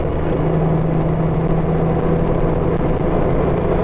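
A Porsche on an off-road safari drive roars with a loud, steady engine drone and deep rumble, close and unbroken, with no voices.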